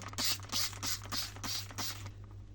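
A spray bottle pumps Asperox cleaner onto bathroom tiles in five quick hissing bursts at a steady rhythm, close and loud over a low constant hum, with no speech.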